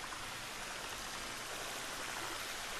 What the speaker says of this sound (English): I think the water is way too loud in this game.